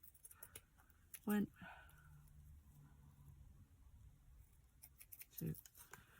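Scissors snip ribbon for a handmade card with a couple of sharp, close cuts, separated by a pause and small handling rustles, at low volume in a quiet room.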